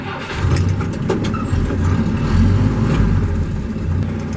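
An old carbureted Jeep engine runs steadily as the vehicle drives, a continuous low, rough rumble that swells slightly in spots, close and loud with no talk over it.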